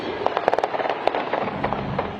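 Gunfire at the Kansas City Chiefs victory parade, a rapid string of sharp cracking bangs in quick irregular bursts against a noisy outdoor crowd background.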